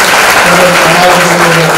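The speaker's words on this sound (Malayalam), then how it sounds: "ഒരു വലിയ കയ്യടിയോടുകൂടി നമുക്ക് സ്വാഗതം ചെയ്യാം" Loud, dense applause from a crowd at a college campus event, a steady wash of clapping filling the whole moment.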